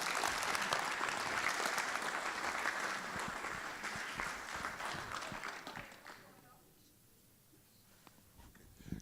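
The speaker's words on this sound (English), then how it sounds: "give us a big round of applause to the top table" Loud applause from a crowd at a press conference for the H.H. The President Cup in Abu Dhabi, sustained dense clapping for about six seconds before thinning out and fading near the end.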